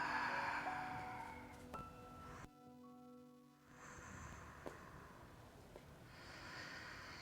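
A slow, airy exhale during a breathing exercise, soft and close, with a near-silent pause partway through before the breath noise returns.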